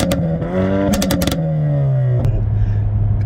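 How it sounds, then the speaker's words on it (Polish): A Hyundai i30 N fastback engine winds down off the throttle in winter while its exhaust fires a quick burst of loud, sharp pops and crackles, followed by a lone later bang. "odsuwacie nogę z pedału przyspieszenia i po prostu słyszycie, jak to niedopalone paliwo trafia do układu wydechowego"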